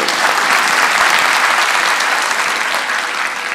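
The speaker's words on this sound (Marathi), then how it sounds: "तुमच्या टाळ्या मला थोड्या थोड्या ऐकू आल्यात, जरा जोरात ऐकू." A theatre audience claps loudly and continuously in a dense wash of applause that holds steady and tapers slightly toward the end.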